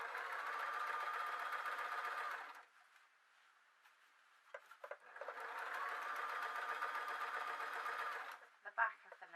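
Sewing machine stitching a blouse, two close, steady whirring runs of rapid stitching separated by a brief pause with light clicks and handling.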